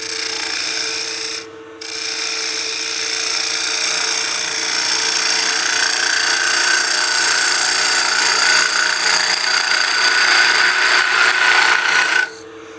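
A woodturning gouge cuts the inside of a flared wooden artifact pot spinning on a lathe, giving a steady, close scraping rasp that runs almost continuously, with one short break early and a stop at the end.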